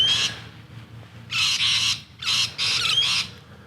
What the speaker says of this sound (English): Some pretty rainbow lorikeets back there, I think. And they're sharing their 2 cents worth.